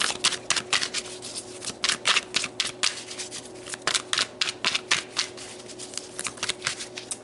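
Tarot cards being shuffled in quick repeated riffling bursts, crisp and close, with no voices.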